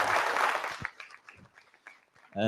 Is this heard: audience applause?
yes